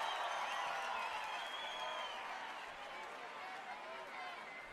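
A festival crowd applauds and cheers for the zebras' brass band: dense, continuous clapping and whooping from many people, steady and fairly distant for several seconds.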